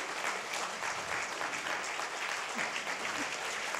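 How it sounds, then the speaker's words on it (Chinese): A large audience at a 2015 medical dedication award ceremony gives steady, sustained applause to thank Dr. Lai's wife, with the dense clapping filling the whole stretch evenly. "大家也用热烈掌声谢谢赖太太。"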